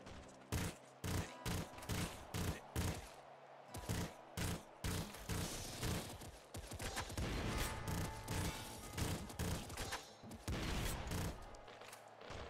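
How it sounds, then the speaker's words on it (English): Rapid bursts of explosive weapon fire from the video game Nuclear Throne Ultra Mod, where a rocket launcher is fired at distant clumps of enemies; dense, loud, repeated blasts and crashes pile on one another without pause. "good thing about my rocket launcher is I can just kind of fire it at a distance to take out big clumps of enemies"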